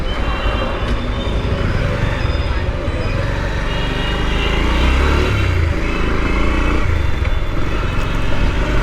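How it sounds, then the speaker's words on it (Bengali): A Bajaj Pulsar motorcycle rides through busy city traffic in Chattogram, with a loud, steady engine and road roar that stays close and continuous, mixed with the noise of surrounding vehicles. "কিন্তু আমি পালসার নিয়ে একটু সাবধানে চালাই"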